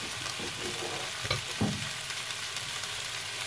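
Beef sauté with green beans sizzling in a frying pan while being stirred, a continuous close crackling hiss with a few soft scraping knocks from the stirring.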